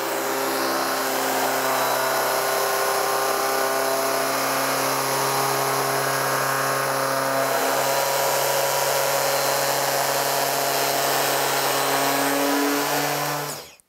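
A loud, steady whine of a power saw cutting a 21 mm groove in a single pass, running continuously for a long stretch, close and unbroken, cutting off abruptly at the end.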